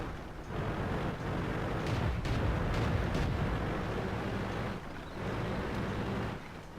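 A tank cannon shell from a Pz.Kpfw. IV Ausf. H slams into the ground in a tank video game, a heavy rumbling boom that rolls on with a continuous low roar and engine noise, with no voices.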